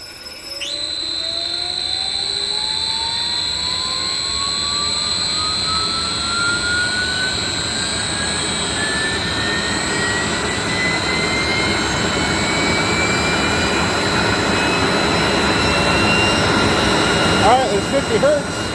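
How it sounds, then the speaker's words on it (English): A 7.5 HP three-phase regenerative ring blower, driven by a 10 HP VFD, ramps slowly up toward 50 Hz, its loud whining tone rising steadily in pitch over a constant airy roar throughout. "this is going to be a slow ramp up to 50 hertz"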